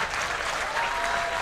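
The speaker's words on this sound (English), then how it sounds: "Once again, another round of applause" A crowd applauds at a small-town baseball game, the dense clapping steady and continuous throughout, heard from a little distance with no talk over it.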